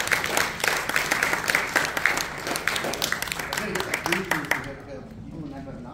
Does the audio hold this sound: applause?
yes